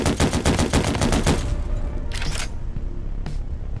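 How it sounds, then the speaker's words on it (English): Gunfire in a video game: a rapid burst of shots rattles loudly for about a second and a half, then fades to scattered quieter bangs. "I'm getting shot again."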